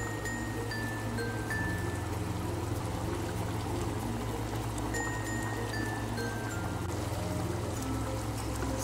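Instant coconut milk pours into a cooking pot of simmering beef dish, a steady liquid stream over a low continuous hum, with no talking.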